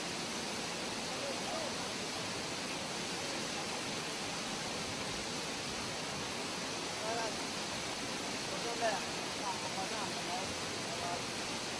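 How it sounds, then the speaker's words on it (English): Steady, unbroken roar of the Tat Phan twin waterfall in Champasak, Laos, dropping over 100 meters into a plateau basin, a dense hiss that stays constant throughout. "the twin waterfall called Tat Phan, which can be seen from the Tat Phan Resort, dropping over 100 meters"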